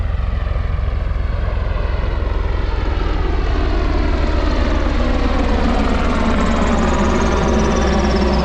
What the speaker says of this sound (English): Got a helicopter coming down the lake.